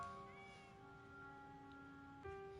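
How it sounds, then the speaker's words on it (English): A fat cat in the video game Zenless Zone Zero gives a drawn-out meow, a faint, tonal cry that bends upward near the end amid quiet game ambience. "Oh, there's a cat over there."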